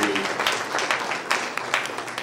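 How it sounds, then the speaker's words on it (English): An audience at a live-streamed event applauds with about two seconds of dense, steady clapping, and a few voices are mixed in. "Let's give a round of applause to"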